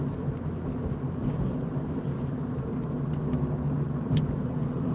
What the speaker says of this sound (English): That's a little speedy car.